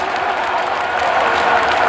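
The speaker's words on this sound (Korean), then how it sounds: "뜨거운 박수 부탁드립니다." Dense, loud applause fills a hall at a Korean political party convention, continuous clapping from a large audience without a break.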